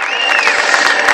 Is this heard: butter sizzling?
no